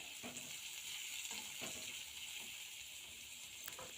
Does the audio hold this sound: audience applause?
no